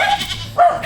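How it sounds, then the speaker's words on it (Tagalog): A goat bleats twice in quick succession, loud and close, each call a short nasal wavering cry. "Uy, kambing."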